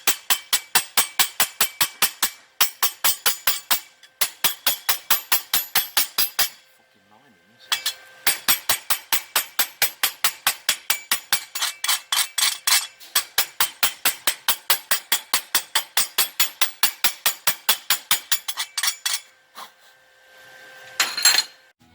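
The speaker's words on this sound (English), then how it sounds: "The slag was a bit difficult to remove" A hammer chipping welding slag off a weld made with a Rohr Smini 120NI welder, long runs of rapid, sharp metallic taps, close and steady, broken by a few short pauses.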